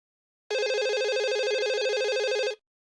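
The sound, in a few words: telephone ringing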